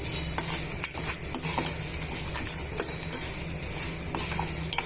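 Dried red chillies frying and being stirred in a pan for an okra chutney: a steady sizzle with frequent scraping stirs and light metal clinks, close and moderately loud, with no talk.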